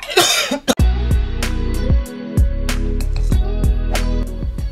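A person forcefully clears their throat in a rough, gurgling rasp as part of imitating Gollum's voice, a loud close run of guttural catches with no words.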